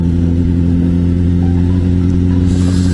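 A Suzuki GSX-S750 motorcycle engine drones loudly and steadily while riding, with a low rumble holding an even pitch throughout, close to the microphone, with no voices.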